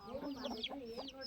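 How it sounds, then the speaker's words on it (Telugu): Small chickens in a tribal village farmyard cluck and chirp in quick, busy bursts, close and fairly loud throughout. "బుడ్డి బుడ్డి కోళ్ళు"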